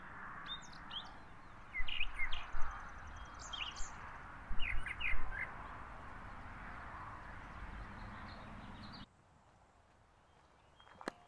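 Birds chirp and sing outdoors in historic Appomattox, Virginia, with short bright bursts of calls over a soft steady background hiss. The calls are moderately near, and a quiet stretch follows near the end.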